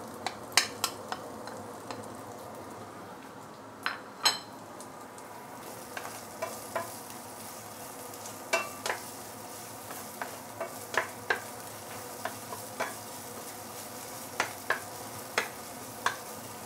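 Garlic, ginger and fresh coriander fry in hot oil at home, a soft steady sizzle punctuated by frequent sharp clicks and taps of a utensil against the pan, close and fairly quiet, with no talking.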